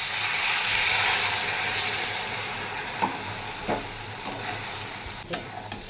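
Ground poppy seed paste fries in hot oil in a pan with a loud, continuous sizzling hiss, broken by several scraping taps of a spatula stirring the mixture.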